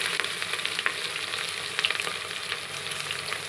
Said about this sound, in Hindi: अब ये मैंने ऑयल डाल दिया है, और अब हम इसमें ये प्याज को फ्राई करेंगे।